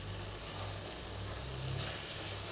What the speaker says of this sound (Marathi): तर हे मसाला पण चांगला परतून घ्यायचा आहे आपल्याला.